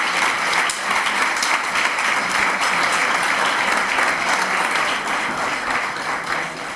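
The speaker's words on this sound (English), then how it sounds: "a big applause for them" A crowd at a conference on building renovation in Spain gives sustained applause for a presenting team, a loud, dense and continuous roar of clapping hands that fades slightly toward the end.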